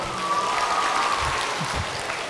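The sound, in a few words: applause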